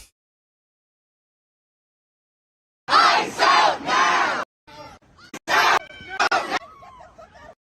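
A large protest crowd shouts through a played recording after about three seconds of silence, arriving in loud overlapping bursts of raised voices with short gaps between them.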